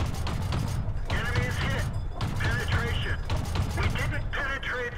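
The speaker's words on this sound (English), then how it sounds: "Alright, so I fire my clip." A tank's gun fires a rapid clip of shots in World of Tanks, a fast run of booming blasts and mechanical thumps packed closely together, loud and continuous for a few seconds.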